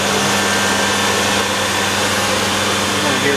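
Spindle of an Okuma Howa 852V machining center with 120-inch X-axis travel running at speed, a loud, steady mechanical whine and hum that holds constant throughout, with someone talking over it.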